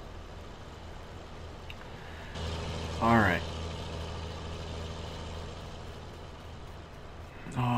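A tractor engine in Farming Simulator 19 on PS4 hums at a steady low idle, with a brief rise in revs, while someone speaks a few words over it.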